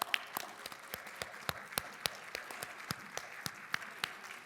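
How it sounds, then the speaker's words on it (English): Scattered audience applause at a charity spring gala, a modest crowd clapping unevenly with distinct individual claps spaced through the sound rather than a dense roar, moderately distant in a large room. "Let's give them a round of applause."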